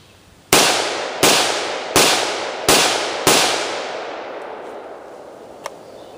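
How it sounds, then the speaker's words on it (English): Five rifle shots of American Eagle Federal .223 ammunition fired at a pipe target: loud, sharp reports spaced under a second apart, each trailing into a long echoing decay, with no voices. "And we've got the American Eagle Federal Ammunition 223. Okay, check it out here. 5 rounds on the pipe."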